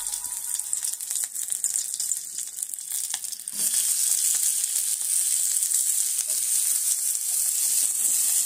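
Onion and green chilli frying in oil for poha make a continuous close sizzle, which swells louder and denser partway through and then holds steady.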